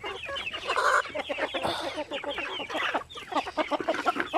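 Native chickens clucking in a ranging area, a busy overlapping chorus of hens close by, steady and fairly loud throughout.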